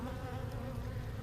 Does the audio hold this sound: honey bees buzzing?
yes